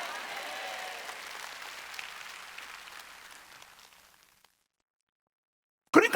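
Congregation applauding at a Wednesday worship service in a Korean church, a moderate burst of clapping that fades away over about four seconds into silence, then a short sharp noise right at the end.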